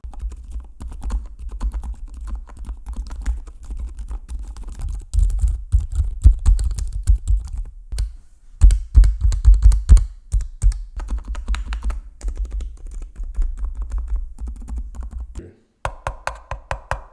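Typing on a Keychron Q1 Pro mechanical keyboard fitted with a PCB cushioning mod produces a rapid stream of close, deep, muted key clacks that come in bursts with short pauses, alone and steady throughout.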